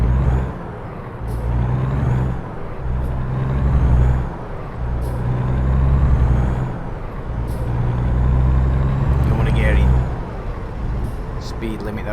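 A heavy truck pulls away in American Truck Simulator, its deep engine drone rising and falling through several gear changes, with short hissing air-brake bursts in between, loud and continuous.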